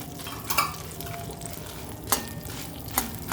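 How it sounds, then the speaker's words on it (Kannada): Half a spoon of fenugreek seeds frying in a pan on low heat, with a soft continuous sizzle and occasional stirring scrapes and taps, close and quiet with no talking. "ಮೆಂತ್ಯ ಒಂದು ಅರ್ಧ ಸ್ಪೂನ್ ಹಾಕ್ಕೊಳ್ತಾ ಇದ್ದೀನಿ. ಇದು ಅದರ ಜೊತೆಗೆ ಫ್ರೈ ಆಗ್ತಾಯಿದೆ."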